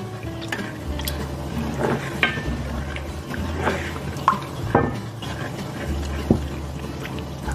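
Cheese sauce for macaroni and cheese gets stirred in a pot, a steady wet swishing with soft scraping and occasional light clinks of the utensil against the pan, close and continuous under a low background hum.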